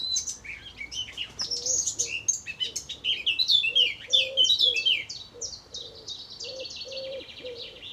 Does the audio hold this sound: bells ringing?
no